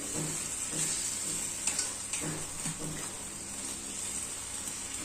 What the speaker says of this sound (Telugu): లో ఫ్లేమ్లో బాగా వేయించుకోవాలి ఇది మసాలా అంతా వేయించుకున్నాము